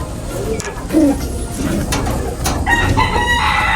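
Gamecock roosters crowing and clucking in a breeding yard, loud and close, with overlapping calls and other birds in the background.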